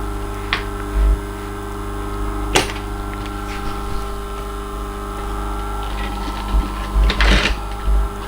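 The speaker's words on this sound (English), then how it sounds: "Start the sewing." A sewing machine stitching a leather tote bag at home, a steady close mechanical hum and whir with short bursts of stitching and a few clicks.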